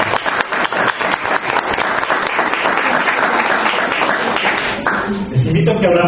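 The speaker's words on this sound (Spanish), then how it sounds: "démosle ese fuerte aplauso de bienvenida." A church congregation gives a strong round of welcoming applause, dense steady clapping throughout that thins and fades near the end as voices come through.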